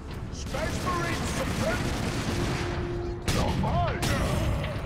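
Two sharp rifle shots crack through a constant hum of game noise in Warhammer 40K: Space Marine, a few seconds apart, while a voice talks over it.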